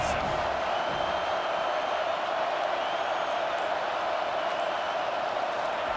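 A packed stadium crowd roars steadily on third down in EA College Football 25, a dense continuous wall of cheering, with a commentator's voice over it.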